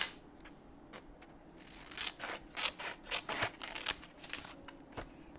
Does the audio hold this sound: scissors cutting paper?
yes